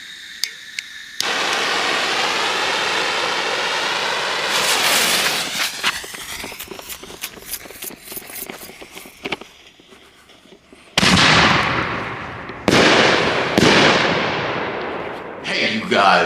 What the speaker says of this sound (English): I am giving you a review of those fireworks that I just shot